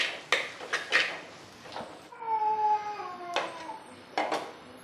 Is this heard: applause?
no